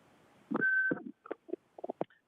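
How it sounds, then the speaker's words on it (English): Public-comment phone line at a county board of supervisors meeting: a single short, clean beep, followed by a few brief, choppy voice-like bursts, all quiet and close. "You will hear a recording that will tell you to begin your comments after the beep."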